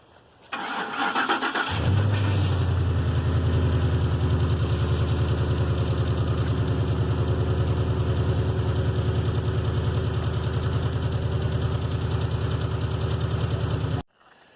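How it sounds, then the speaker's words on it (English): Ford 5.4 3V V8 engine, just after a timing chain replacement, cranks briefly, catches and settles into a steady, loud, even idle that runs unbroken for about twelve seconds before cutting off, with no talking. "got good oil pressure, and now we're going to fire it up."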